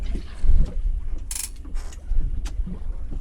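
A tope rod's fishing reel ratchet clicks as line runs off on a UK boat, heard as short bursts of rapid clicking over a steady low rumble of engine and water, with no talk.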